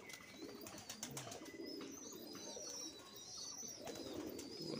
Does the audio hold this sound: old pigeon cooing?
yes